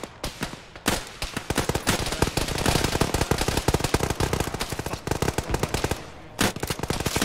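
Gunfire in the ArmA military video game, played with ShackTac: sustained rapid automatic bursts and sharp close shots hammer on loudly and almost without pause, with heavier single cracks mixed in.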